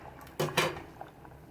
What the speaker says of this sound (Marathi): चांगली उकळ फुटलेली आहे